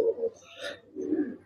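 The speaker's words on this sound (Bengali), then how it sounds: "এটা একটা রেসার পায়রা" A racer pigeon cooing softly up close, two low throaty coos separated by a brief pause, mixed with a nearby voice talking.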